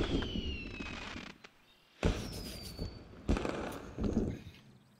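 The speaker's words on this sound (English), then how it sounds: "Fireworks. Fireworks." Fireworks in Assassin's Creed: Unity. Three sharp bursts go off a second or so apart, each with a high falling whistle and a crackling tail that fades between blasts, at moderate distance with no talking.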